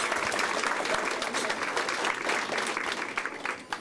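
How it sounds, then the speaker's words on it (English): A library reopening crowd gives loud, sustained applause for a high school drum line, a dense wash of many hands clapping that fades slightly at the end. "Give them a nice round of applause for the Patrick Henry drum line."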